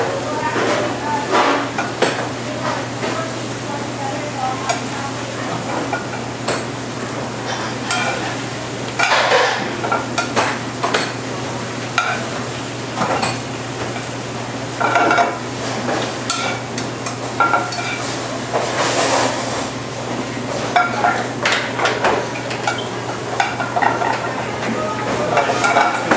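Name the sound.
baby spinach frying and being stirred in a pan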